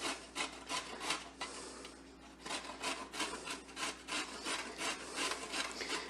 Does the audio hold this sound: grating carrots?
yes